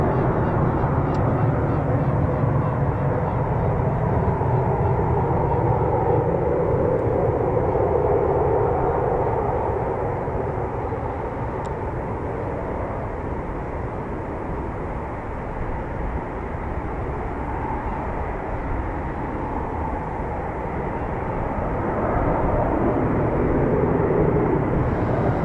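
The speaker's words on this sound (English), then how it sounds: "Typhoons taxiing from Free Fighter Squadron" Eurofighter Typhoon FGR4 jets taxiing at RAF Coningsby, a steady, loud, broad jet engine roar and whine that holds without a break, swelling slightly at the start and end.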